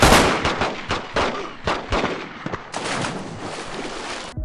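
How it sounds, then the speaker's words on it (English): Rapid volleys of gunshots from The Sopranos PS2 video game crack out one after another, loud and close, forming an irregular burst of repeated gunfire with a denser stretch toward the end. "Use a gun! You can shoot people"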